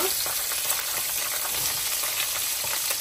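Onions sizzle in ghee or oil at the start of a chicken mandi rice base, making an even, dense frying hiss with faint crackles throughout and no talking.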